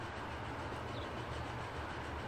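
Flying Scotsman heritage steam train running on a mainline service from London Kings Cross toward Edinburgh in Transport Fever 2, a steady continuous rumble of rolling carriages with a low rhythmic rail clatter, heard alone without voices.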